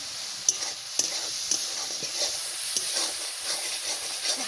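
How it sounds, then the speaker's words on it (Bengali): Spice masala with a little water being stirred and fried in a pan for a Bengali fish curry: a quiet steady sizzle with soft, irregular scraping strokes of the spoon. "জল দিয়ে মশলাটা ভালো করে কষাই নেবা"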